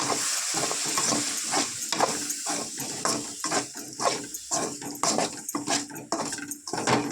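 Pakoda curry mixture stirred in a pan in a home kitchen, a steady run of scraping, sloshing strokes repeating close up, with no talking.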